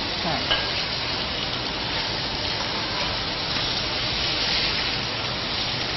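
Fish frying in a pan until lightly golden gives a dense, loud, unbroken crackling sizzle like heavy rain, steady and close, with no talking.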